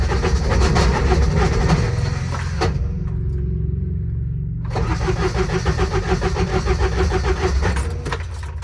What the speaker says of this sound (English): And that's the Bendix.